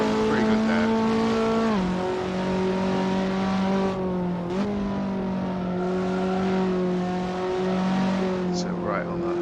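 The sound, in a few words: Skip Barber F2000 race car driven on circuit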